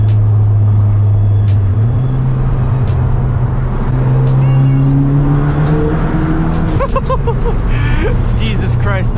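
A Stage 2 Ford Focus ST engine drones steadily as the hatchback drives under a small bridge, the tone rising as it accelerates and the reflections sharpen near the end, loud and close.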